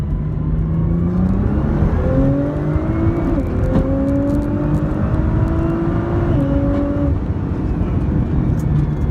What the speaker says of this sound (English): just run through the gears a little bit